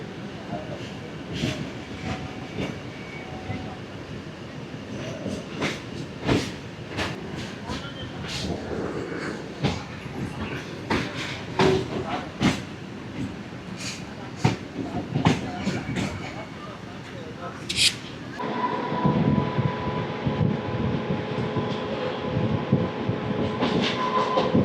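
A Renigunta to Nandyal DEMU express rolls along, heard from inside the coach beside the engine: a steady rumble with repeated wheel clicks and rattles, a sharp squeal near the end, and voices now and then.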